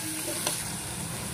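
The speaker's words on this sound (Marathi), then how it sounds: "आता यामध्ये आपल्याला बारीक चिरलेला जो कांदा होता तो कांदा टाकायचा यामध्ये। याला आपल्याला मिक्स करायचंय।" Finely chopped onion hits hot spiced oil for chole and is stirred, giving a brief, close, steady sizzle with one quick scrape of the spoon partway through.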